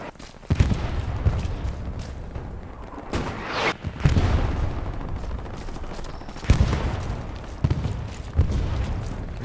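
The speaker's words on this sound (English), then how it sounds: "I guess the artillery's back" Video game artillery fire crashes in repeated loud booms and bursts, several heavy impacts spread across the stretch with rumbling between them, alongside other battle noise.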